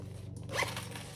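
A zipper on a bag's back pocket is pulled open in one short rasp, close up and fairly quiet over a steady low hum.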